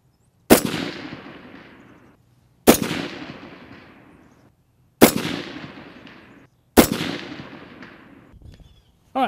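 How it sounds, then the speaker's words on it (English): Four rifle shots are fired at steady intervals of about two seconds on a range during zeroing. Each is a loud, sharp crack that rings out and decays, aimed at a steel target 300 meters away. "All right, Cleveland, give me a couple shots on the steel."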